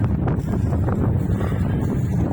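Breezy outdoor wind buffets the microphone in continuous low rumbling gusts, fairly loud and close, with no voices.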